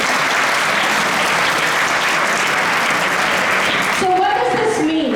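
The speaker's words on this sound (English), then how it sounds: "Can we get a round of applause?" Loud, dense applause from a congregation at an ISKCON Toronto Sunday love feast, sustained clapping that fades near the end as a voice begins speaking.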